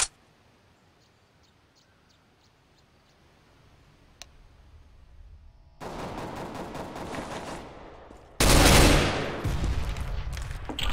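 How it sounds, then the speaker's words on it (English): Gunfire in the shooter CS:GO, first a quiet stretch with faint clicks, then rising bursts of rapid shots that turn into a loud, dense barrage near the end. "They are shooting at me."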